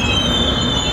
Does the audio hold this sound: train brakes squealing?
yes